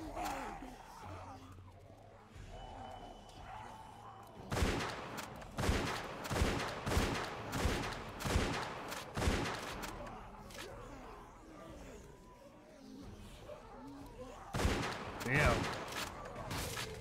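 Gunfire in The Walking Dead video game, roughly a dozen heavy, evenly spaced booming shots over a tense, rumbling background, with a pause before two final blasts.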